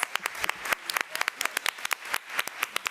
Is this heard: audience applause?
yes